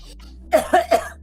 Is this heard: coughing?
yes